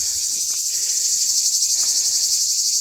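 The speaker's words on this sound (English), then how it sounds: "you can hear a lot of like cicadas" A loud, continuous high-pitched buzzing of cicadas fills the air outdoors in Greece, steady and unbroken throughout.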